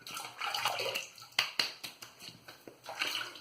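Water splashes onto a face during a wet shave before lathering, making soft, close, irregular splashing and dripping sounds at low volume.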